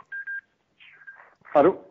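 A telephone rings on a live radio call-in line, two short electronic ring tones close together, followed after a pause by a brief voice.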